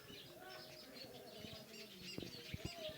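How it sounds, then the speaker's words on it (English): Birds chirp and call from trees near their nests in a residential compound, with faint tweets and occasional coos and a few soft knocks against a quiet background. "Very, very beautiful birds."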